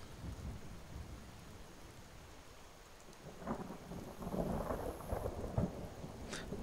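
Steady rain hisses throughout while low rumbles of thunder build in the second half, with a sharp crack near the end, in the video game Skyrim with the Requiem mod.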